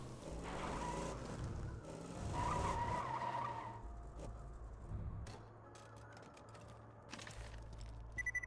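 A car in a video game drives and skids, with a sustained engine drone and tire squeal that fade into quieter rumbling and some scattered clatter near the end.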